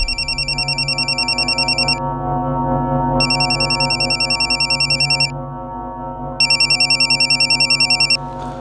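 A telephone ringtone repeats in three loud electronic bursts with brief gaps between them, laid over a sustained musical drone, with no one talking.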